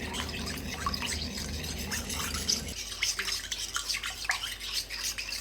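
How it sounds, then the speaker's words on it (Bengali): Sugar, salt and yeast mixed with a spoon in a bowl: close, brisk scraping and clinking strokes tap out an irregular rhythm, while a low background hum cuts out partway through. "এখন চামচ দিয়ে খুব ভালোভাবে মিশিয়ে নিব সমস্ত উপকরণ"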